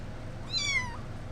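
A single kitten gives one short, falling meow over steady background hum, close by and moderately clear.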